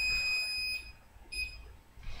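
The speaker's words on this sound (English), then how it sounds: "Okay, so here's my timer going off." A kitchen timer goes off in a kitchen during cooking: two short bursts of a high, shrill electronic beeping separated by a brief pause, close and fairly loud, with a third burst just beginning at the end.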